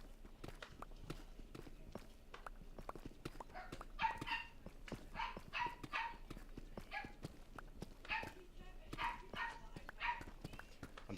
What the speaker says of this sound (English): I'm sure you guys can hear the puppies in the background.